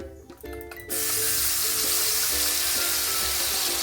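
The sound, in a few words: tomato-cashew paste sizzling as it is added to the pan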